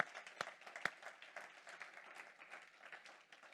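A church congregation applauds in praise on a morning service, steady scattered clapping from many hands, fairly faint and distant, with a couple of sharper claps near the start.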